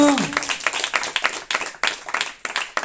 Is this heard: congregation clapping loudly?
yes